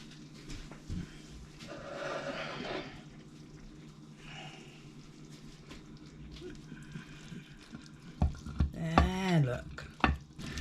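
Food scraped and spooned from a pan into a baking dish in a home kitchen making a no-sugar bake, with soft scraping and clinking, then louder knocks and a scrape near the end, amid faint background noise.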